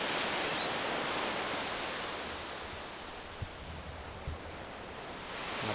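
Ocean surf at Icacos beach in Acapulco gives a steady broad wash of breaking waves, loudest at the start, dipping slightly, then swelling again at the end.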